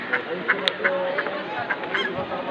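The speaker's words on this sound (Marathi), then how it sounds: "बदक बघा इकडे बदक पण आहेत" Ducks quack and honk in short repeated calls against a busy outdoor background at Banganga tank, Walkeshwar, Mumbai, with faint voices nearby.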